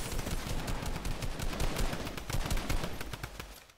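Rapid automatic gunfire from a Fortnite arena match, a dense run of shots rattling continuously for nearly four seconds at steady loudness before cutting off.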